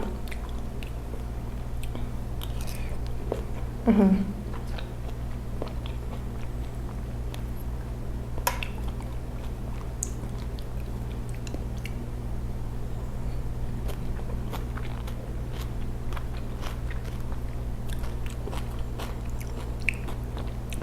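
Someone eats a crunchy marian plum (mayongchit) salad made with slightly overripe fruit, with soft biting and chewing close to the mic, one clearer bite early on, over a constant low background hum.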